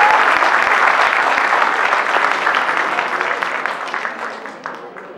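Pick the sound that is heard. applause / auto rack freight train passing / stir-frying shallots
applause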